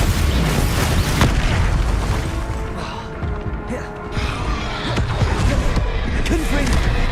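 Loud, booming blasts from the Confringo fire spell in Hogwarts Legacy, repeated bursts and pops over a continuous din of combat effects and mechanisms, with a voice shouting spell names over the action.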